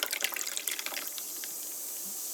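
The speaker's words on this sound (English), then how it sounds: "and then you pour in the Coca-Cola" Coca-Cola pours from a can into a mug of iced sweet cherry tea, a fizzy splashing stream that starts busy and settles into a steady hiss, close and alone.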